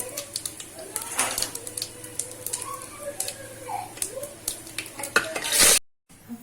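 Cloves and cardamom sizzle in hot oil in a pan for a crab soup, a soft crackle broken by quick metal clinks and spoon scrapes, close by, with brief background voices before a sudden cutoff.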